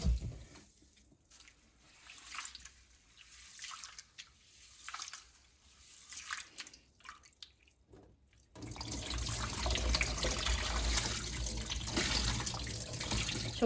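Rice washed three times in water for mutton dum biryani: quiet sloshing and dripping with gentle stirring at first, then a steady, louder rush of running tap water filling the vessel nearby.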